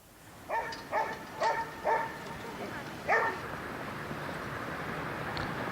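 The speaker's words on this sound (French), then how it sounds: "Le George's Dog Run, un endroit où les propriétaires de chiens peuvent les laisser en liberté." Several dogs bark in short bursts, about five sharp barks in a row then one more, at an outdoor dog run in New York City's Greenwich Village, moderately close over steady street ambience.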